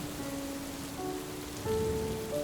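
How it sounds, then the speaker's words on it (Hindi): Rain pouring steadily outdoors, an even hiss of falling drops that swells slightly near the end, with no voices. "चिंटू, जल्दी से आओ बेटा, बारिश हो रही है, अगर भीग गए तो सर्दी लग जाएगी।"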